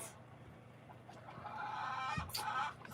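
Chickens cluck softly at a distance in a quiet outdoor setting, with a few brief, louder bird calls rising near the end.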